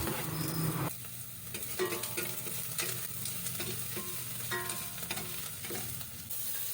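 Garlic sizzles in hot oil in a cooking pot, a close continuous frying hiss punctuated by the clatter and scrape of a stirring utensil against the pot, without any talk.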